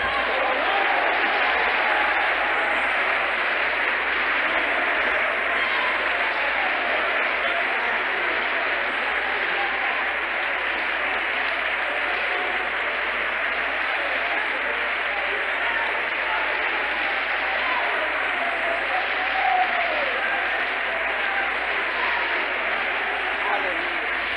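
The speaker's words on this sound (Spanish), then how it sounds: "Otro aplauso para el Señor." A church congregation keeps up dense, sustained applause for over twenty seconds, a steady wash of clapping from many hands filling the room, with voices mixed in underneath.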